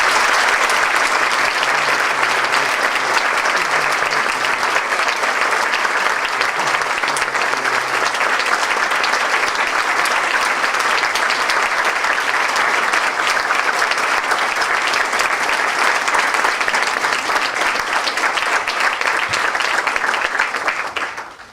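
Audience applause welcoming a lecturer, Steven Cerf, at a Common Hour talk: steady, dense clapping from a full hall, loud and sustained for about twenty seconds before tapering off at the end.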